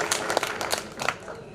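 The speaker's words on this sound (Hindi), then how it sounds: "एक बार जोरदार ताली से स्वागत कीजिए" An audience at a Hindi kavi sammelan poetry gathering claps to welcome the poets, a dense burst of many hands that tapers slightly, with voices mixed in.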